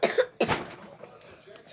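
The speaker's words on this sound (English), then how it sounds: "it's coughing out loud" A person coughs twice in quick succession, close and sharp, followed by faint room noise and a small throat sound at the end.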